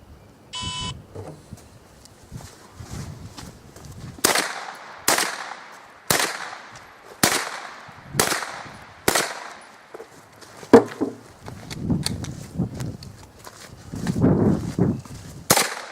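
Gunshots ring out during a tactical home-defense shooting drill: after a starting beep, a rapid series of sharp, loud reports in quick succession, then more spaced shots mixed with quieter handling noise.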